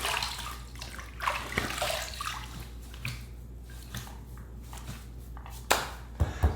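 Water sloshing and dripping as a soaked shaving item goes into a sink basin before a wet shave, with soft splashes and trickles throughout, a louder splash near the end, fairly close and moderate in level.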